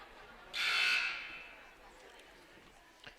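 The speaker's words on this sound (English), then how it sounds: "That would be the first buzzer, indicating that both teams are about to get their very first warning." A single electronic buzzer sounds at a girls' high school basketball game, a loud harsh tone lasting about half a second and then fading, amid quiet gym ambience.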